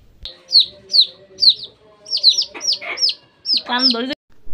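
A hen clucks repeatedly in short, close, rhythmic bursts, with high peeping chirps from chicks mixed in and a louder squawk near the end.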